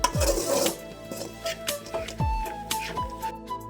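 Cauliflower being stirred into Chettinad masala in a pan. A spoon scrapes and knocks against the metal in short, irregular strokes, with a faint sizzle underneath.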